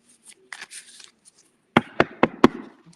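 Cards being shuffled to clear the deck after an earlier reading: a few soft riffles early on, then four sharp, loud slapping bursts in quick succession near the end, with no talk.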